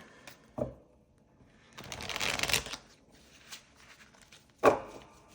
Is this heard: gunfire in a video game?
no